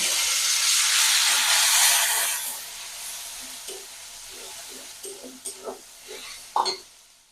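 Ground cumin, onion, chili and garlic pastes hit hot oil in a steady, loud hissing sizzle that fades after a couple of seconds into softer crackles and a few clinks of stirring.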